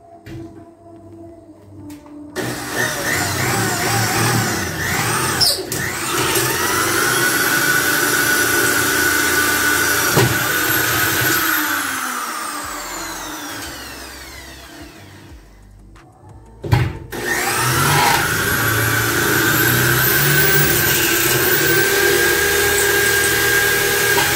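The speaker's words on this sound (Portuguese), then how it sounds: "Eu vou passar a broca nos dois lados do alumínio aqui." Electric drill with a 4 mm bit boring through both walls of an aluminium door profile, a loud, steady high whine that holds for long stretches, briefly stops, then starts again, close to the listener with no talking.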